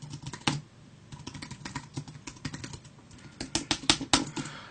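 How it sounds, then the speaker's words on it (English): Fingers pound hard on a computer keyboard in rapid, uneven bursts of sharp clacks close to the microphone, growing denser and louder toward the end, with no talking. "Sorry about bashing on that keyboard."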